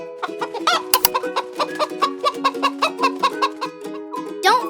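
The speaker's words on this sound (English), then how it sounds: "Chicken." A farmyard chicken clucks repeatedly in a steady, rhythmic series of close, clear calls, with a brief louder squawk near the start and another toward the end.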